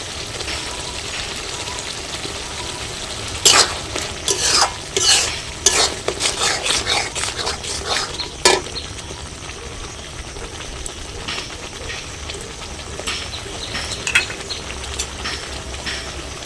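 Chili powder being stirred into butter chicken masala in a hot pan, a steady fizzing sizzle with bursts of scraping spoon strokes against the pan, close and continuous.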